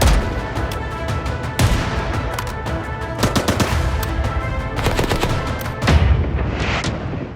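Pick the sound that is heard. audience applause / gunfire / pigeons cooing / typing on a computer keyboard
gunfire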